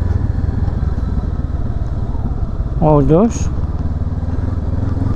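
A 2023 Honda CL500 Euro5 motorcycle engine runs steadily and loudly up close with a continuous throbbing drone, while someone speaks briefly over it.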